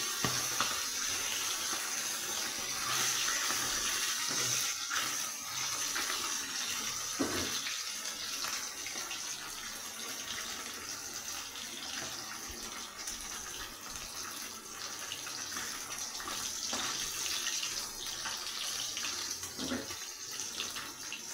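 Bhetki fish frying after being dropped into hot oil in a home kitchen: a steady, loud hiss and sizzle that keeps going without a break, with faint occasional pops and clatter and no talk.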